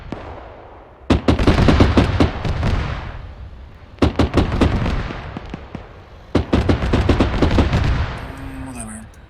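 Three long bursts of rapid machine-gun fire in the Arma 3 game at a Syrian factory, loud and close, separated by short pauses, ending with a faint electronic tone.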